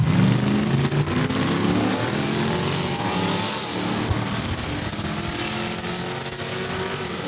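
A 2010 Charger drag racing launches down the quarter mile at Saskatchewan International Raceway, a loud, continuous engine roar with steady rising harmonics filling the whole stretch.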